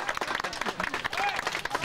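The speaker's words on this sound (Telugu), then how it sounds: "చప్పట్లు." Audience applause at a Telugu stage ceremony as a name is called, a brief burst of crowd clapping mixed with voices and background chatter.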